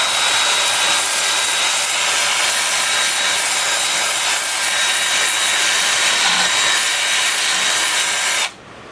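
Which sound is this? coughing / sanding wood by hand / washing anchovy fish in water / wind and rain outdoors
sanding wood by hand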